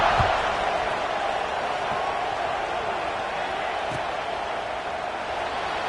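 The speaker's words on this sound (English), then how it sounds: "this crowd is buzzing after that last score." Steady stadium crowd buzz from a College Football 26 video game fills the whole stretch, a dense continuous roar at even loudness with faint thumps scattered through it.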